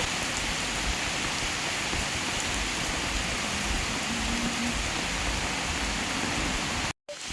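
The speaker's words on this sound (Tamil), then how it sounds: "சின்ன தூவான அடிச்ச மாதிரி அடிக்குது பெரிய மழை இல்லை" Light drizzle falling steadily over a hillside garlic farm, a soft continuous hiss of fine rain with no other sounds, briefly cutting out near the end.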